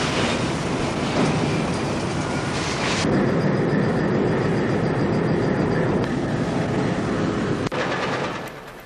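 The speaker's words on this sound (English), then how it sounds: "This train is loading what is known as fines" Iron ore train at a Hamersley Iron loading facility being loaded with fines: continuous heavy rumbling and rattling machinery noise, loud and steady, easing off at the end.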